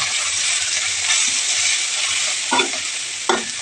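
Ground coriander and other spices sauté in a hot pan, giving a steady, close, loud sizzle with a couple of brief stirring scrapes and clinks toward the end.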